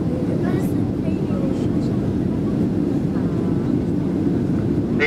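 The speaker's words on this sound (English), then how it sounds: "The aircraft is making its final approach" Ryanair Boeing 737-800 on final approach into Ibiza, heard from inside the cabin as a steady, loud low engine and airflow roar that holds even throughout, with faint voices now and then.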